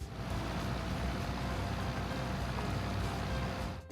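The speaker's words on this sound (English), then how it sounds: "The tractor roared as I lowered the plow into the ground for the very first time" A tractor engine in Farming Simulator 25 roars steadily and loudly as a plow is lowered into dry grassland, a dense continuous low rumble holding constant for the whole stretch with no pauses.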